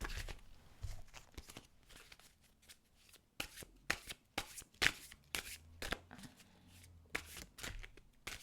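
Tarot cards are shuffled by hand for a card reading, giving a close series of crisp riffling and slapping bursts with short gaps between them.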